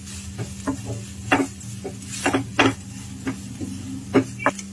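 Grated coconut sautéed on a low flame for mutton kulambu: a steady low hum under repeated close scraping and stirring strokes of a spoon against the pan, with no talk.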